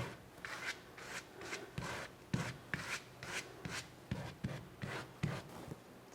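A toothed silicone tool scrapes through paint on a canvas in quiet, rhythmic strokes, about a dozen soft rasping swipes at a steady pace, close by with no talking.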